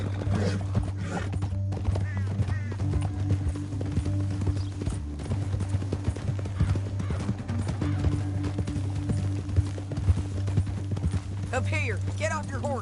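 Horse hooves clip-clop at a gallop in the Western video game Red Dead Redemption, a steady rapid rhythm running throughout with occasional whinnies, under ongoing talk and background music.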